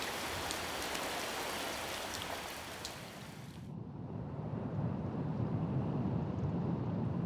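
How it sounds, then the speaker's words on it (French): Heavy torrential rain pours down in a dense, continuous roar. Partway through the texture shifts to a duller, deeper wash, but the downpour keeps going without a break and no one speaks. "Cette pluie diluvienne peut durer de longues heures."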